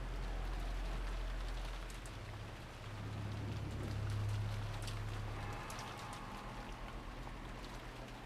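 Steady rain patters on a rainy night in the Umineko visual novel, a constant soft wash with low rumbling swells of thunder underneath, quiet and continuous throughout.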